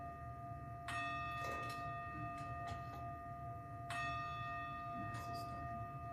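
A meditation app's bell rings twice, each a clear resonant chime with a long decaying tone, set apart by a few seconds over a faint background hush, with no talk.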